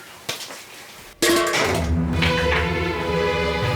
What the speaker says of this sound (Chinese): 来，我来炒菜来